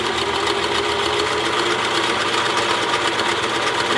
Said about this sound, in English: Now I'm going to stitch the edge.